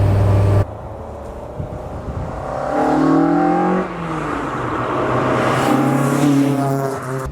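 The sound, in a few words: rebuilt Zetec-powered Mk2 Ford Escort engine revving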